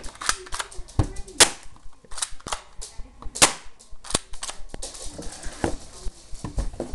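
M39 Desert Eagle shots fired at a target, a run of sharp, loud, close cracks at uneven intervals with lighter clicks and patter between them.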